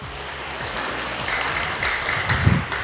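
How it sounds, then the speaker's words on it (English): An audience claps at a school debate competition hosted at Kokopo Secondary, the applause rising into a steady, fairly loud patter that swells slightly toward the end, with no speech over it. "So round of applause for everyone."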